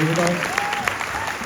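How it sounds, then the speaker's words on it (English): Loud, sustained applause from a film screening audience greets the director and actors of The Crow, a thick clapping wash with a voice or tonal cry briefly audible within it. "let's have a big round of applause for these guys for coming down here to share their movie with us"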